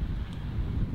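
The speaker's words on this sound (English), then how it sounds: "look at this wind" Wind gusts steadily across an open golf course at Staddon Heights Golf Club, a low rumbling buffet on the microphone that runs unbroken through the moment with no talk.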